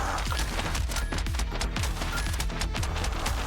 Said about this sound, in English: We definitely have people shooting though.